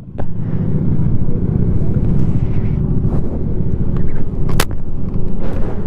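A group of about twelve motorcycles on a Bisita Iglesia ride roars past close by, engines and tyre noise merging into a steady rumble buffeted by wind noise, with voices talking over it.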